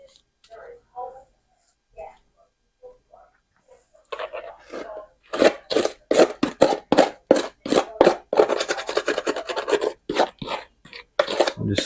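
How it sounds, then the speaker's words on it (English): A spoon stirs sugar cookie mix with butter in a bowl, making close, repeated rasping scrapes in quick strokes. The scraping comes after a few seconds of soft, sparse sounds and brief quiet talk. "I'm just stirring around that dough some, or not dough, the cookie mix."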